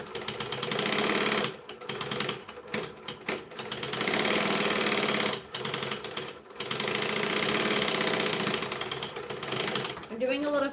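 A sewing machine bastes fabric in rapid mechanical bursts, stopping and starting several times, close and clear.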